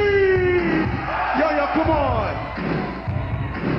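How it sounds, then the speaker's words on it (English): Live concert crowd at a 1985 show at The Ritz in New York screaming and cheering loudly and continuously, with a performer shouting over the roar through the PA. "Somebody scream!"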